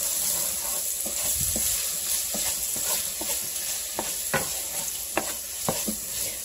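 Onions frying in a pan as they are stirred around, a soft continuous sizzle broken by irregular light scrapes and clicks of the utensil, close up with no voices.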